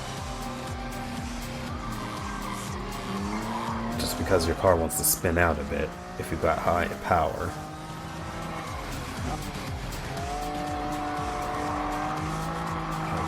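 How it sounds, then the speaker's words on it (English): A high-powered race car in the Gran Turismo racing game spinning out, tires squealing and skidding in several wavering bursts over a steady engine drone, with someone talking throughout. "your car wants to spin out a bit"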